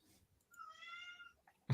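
A domestic cat gives a single drawn-out meow, faint and close, in an otherwise quiet room.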